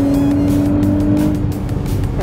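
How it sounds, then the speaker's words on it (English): A yellow manual Toyota Supra engine rumbles loudly nearby as it rolls up, its throaty note rising and falling slightly. "Look at this yellow Supra pulling up."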